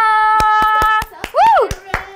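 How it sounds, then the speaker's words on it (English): Welcoming hand claps at a steady beat of roughly one every fifth of a second, heard under a sustained sung or spoken voice with a rising and falling vocal swoop in the middle. "please clap your hands at home also with me to welcome them"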